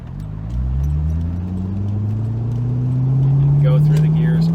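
A C5 Corvette pulls hard through its gears from inside the cabin, its engine note climbing steadily and growing louder as it accelerates, with wind rush and faint clicks over the rising drone.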